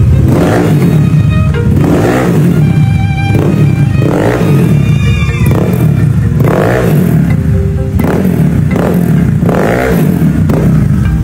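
A Honda Click motorcycle engine fitted with a 59 cam idles and revs steadily, a loud continuous exhaust drone with rhythmic surges roughly every second and light mechanical clatter throughout.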